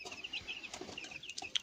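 A broody hen sitting on eggs on a small poultry farm gives short, close clucks and a few sharp higher calls, fairly faint, with no talking.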